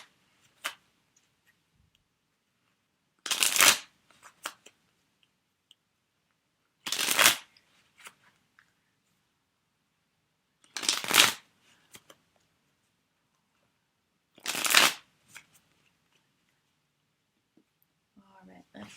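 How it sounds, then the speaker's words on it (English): Tarot cards being shuffled in four separate bursts, each a short crisp riffle followed by a few soft taps, spaced evenly across an otherwise quiet room. "I'm going to do some shuffling."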